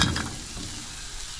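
Peppers browning in a pan, giving a close, steady sizzle and crackle that fades a little after a brief stir at the start.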